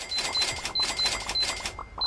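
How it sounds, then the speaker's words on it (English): A cash register in the Hypermarket Simulator video game gives its ka-ching effect, rapid mechanical clattering broken by short bright chimes repeating several times in quick succession, close and clear. "they also got rid of the cash register sound every time you ordered something"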